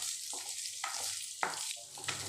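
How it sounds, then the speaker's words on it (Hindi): Potatoes with curry leaves fry in a pan over a low flame for sago khichdi, a steady close sizzle broken by a few stirring scrapes at regular intervals. "अब हम आलू को इसके साथ थोड़ा सा भून लेते हैं, जिससे कि आलू के अंदर एक क्रंचीपन आ जाए।"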